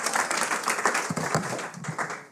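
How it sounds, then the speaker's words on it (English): Crowd at a Nowruz diaspora dialogue event clapping warmly for the panel speakers, a full continuous round of many hands that begins to thin toward the end. "Can I have a big round of applause to all the speakers?"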